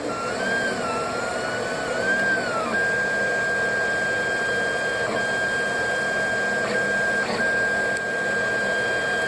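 A Monoprice 3D printer lays down its first layer with a continuous motor whine and shifting stepper tones, steady and close, with a faint fan hum beneath and no talking.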